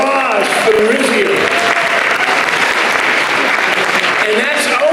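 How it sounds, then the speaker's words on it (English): An audience at a Legal Aid Society event bursts into loud, sustained applause that holds an even level throughout, with cheering voices mixed in. "what about a round of applause for the Rizio?"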